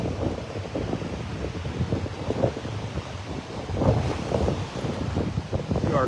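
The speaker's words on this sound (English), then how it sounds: "Feels like that wind's picking up instead of dying down" Steady, buffeting wind on an open Florida Gulf beach at Delnor-Wiggins in North Naples, gusting harder near the end and roaring across the microphone, with surf faintly mixed underneath; no one talks.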